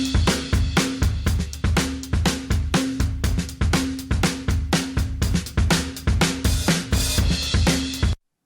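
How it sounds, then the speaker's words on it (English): A drum kit processed with an overall lo-fi effect plays a steady beat of punchy kicks and snares with crunchy hi-hats, loud and alone, in a regular rhythm that stops abruptly near the end. "a little bit of overall lo-fi, which sounds like this."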